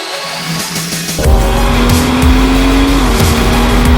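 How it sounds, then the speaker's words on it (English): A BMW M240i sports car engine roars loudly up close as the throttle opens, its deep exhaust note rising and holding with a brief shift in pitch. "It sounds really good, especially if you change up the exhaust"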